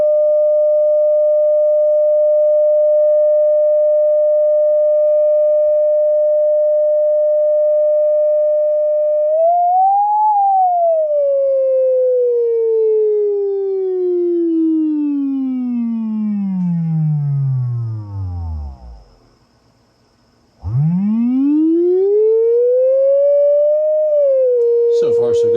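Vintage Fender speaker plays a steady sine test tone near 600 hertz, then the pitch sweeps down into a low rumble, cuts out for a moment and glides back up, loud and continuous.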